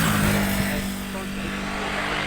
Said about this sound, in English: That was Michael Dunlop's bike, the black one, isn't it?